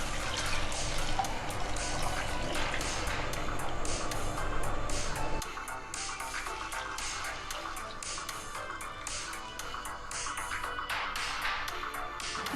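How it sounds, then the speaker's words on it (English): Hot water poured into a pot of basmati rice and mutton for pulao, a steady full pour that runs for about five seconds before easing to a softer, lighter trickle. "Then add 1 liter hot water."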